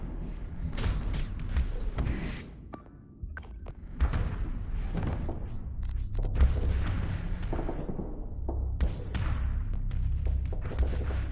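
Space station base firing its weapons during a space battle in the video game Starsector, a steady barrage of heavy thuds and booms layered over a dense rumbling background, with impacts recurring throughout.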